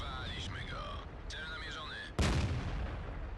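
A single loud tank-gun blast from a Bat.-Châtillon 25 t in the video game World of Tanks, preceded by whining mechanical tones and followed by a lingering rumble.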